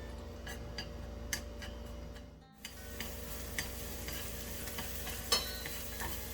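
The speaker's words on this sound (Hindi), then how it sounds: "तेल जब थोड़ा गरम हो जाए उसमें हम बारीक कटा हुआ प्याज अराउंड 2 स्पून्स डालेंगे।" Finely chopped onion, about two spoonfuls, fries in warmed oil for Korean-style ramen. A quiet, steady sizzle runs throughout, with scattered light ticks and scrapes from stirring and no voices.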